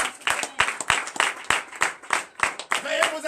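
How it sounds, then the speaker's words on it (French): A church congregation in Comè, Benin claps with sharp, uneven bursts of applause that come and go, and voices talk and call out over the clapping. "Donnez l'acclamation à la fin."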